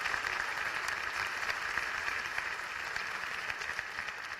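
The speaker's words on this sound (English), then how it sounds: "Give these guys a round of applause." A church congregation applauds, a soft, continuous wash of distant clapping with no voices over it.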